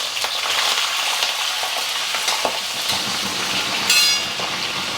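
Green chillies frying in oil with cashews for idli upma, a steady close sizzle with occasional spatters and scrapes and a brief sharp clink near the end, no talk.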